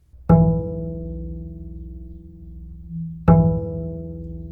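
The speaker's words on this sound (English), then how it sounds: "I'm going to place it on that harmonic note on the second string, and I'm going to pitch really close to the thumb." Two plucked harmonic notes on the second string of a double bass, played harp-style with the pluck close to the thumb, each a sharp attack followed by a long, ringing, steady sustain. They are close and clear, about three seconds apart, with no talking.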